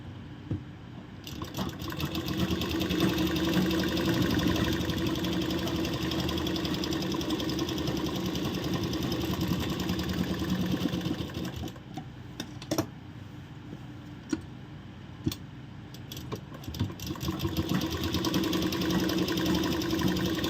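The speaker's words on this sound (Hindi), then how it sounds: "और यहाँ आप लोग डबल सिलाई लगा सकते हैं।" A sewing machine runs in a long continuous stretch doing double stitching on palazzo pants, then slows into shorter starts and stops with light clicks, heard close and fairly quiet.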